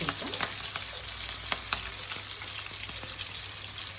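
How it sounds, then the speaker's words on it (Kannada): Crushed garlic with green and dry chillies and cumin frying in a pan for hog plum chitranna, a soft steady sizzle with a few light clicks of stirring, close by, with no talk. "ಬೆಳ್ಳುಳ್ಳಿ ಸ್ವಲ್ಪ ಫ್ರೈ ಮಾಡ್ಕೊಳ್ಳಿ"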